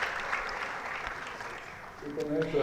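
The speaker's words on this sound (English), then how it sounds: "A round of applause for them," An audience at a panel session on last-mile connectivity for remote communities applauds. The clapping is steady and moderate, and a voice starts speaking over its tail end.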